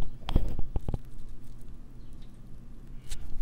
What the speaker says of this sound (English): Might hear a couple air bubbles.